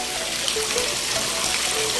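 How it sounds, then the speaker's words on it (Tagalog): Water pouring steadily into a 3 m diameter tilapia fish pond, a constant loud splashing rush with no voices over it. "sa kasalukuyan na nag-fill up po kami ng tubig ngayon"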